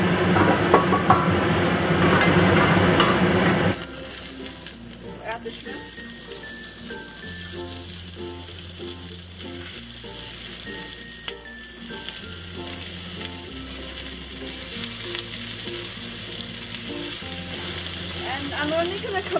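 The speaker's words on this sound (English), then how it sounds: "the first thing we're going to do is pre-cook the shrimp" Shrimp pre-cooking in oil in a pan on medium-high heat for Sichuan dry-braised shrimp, starting with a loud, hissing sizzle that drops to a steady fry under background music.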